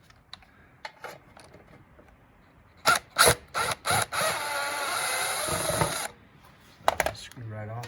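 Ratchet unscrewing a 10 mm bolt at a streetbike motorcycle battery, a few sharp clicks then a sustained close ratcheting whir, with scattered handling noises and a brief voice near the end.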